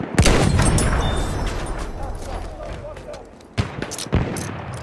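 Machine gun fire in the Battlefield 1 video game: loud, close bursts of rapid shots and crackling gunfire, fading and then returning in sharp volleys, with battlefield voices mixed in.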